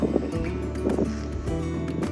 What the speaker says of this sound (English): a boat passing by is kind of ruining my sunset shot